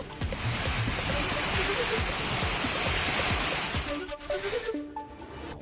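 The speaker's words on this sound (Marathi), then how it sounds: "अकोला जिल्ह्यातील तेल्हारा, अकोट, बाळापूरमध्ये वादळी वाऱ्यासह जोरदार पाऊस." Heavy unseasonal rain lashes down with stormy wind, a dense, roaring wash of noise with scattered thumps, loud and continuous before thinning near the end.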